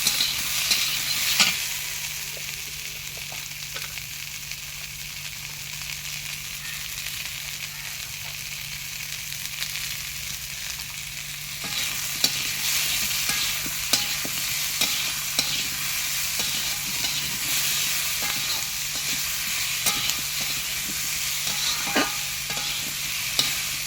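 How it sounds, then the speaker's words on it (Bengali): Onions frying with salt in a pan during home-style Bengali cooking give a steady, close sizzle throughout, with occasional stirring scrapes and clicks and no talking. "নুন দিয়ে দেবো একটু, তবে তাড়াতাড়ি পেঁয়াজটা ভাজা হয়ে যাবে।"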